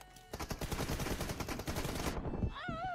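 Rapid bursts of automatic gunfire from a PUBG Mobile (BGMI) match rattle loud and dense for about two seconds, then cut off, leaving a brief tonal game sound.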